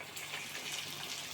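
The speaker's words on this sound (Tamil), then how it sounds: "இப்போ கொதிக்குது, காய் வேகட்டும்." Bitter gourd curry boiling in a pot, a soft, brief bubbling and watery gush heard faintly and close, with no talk.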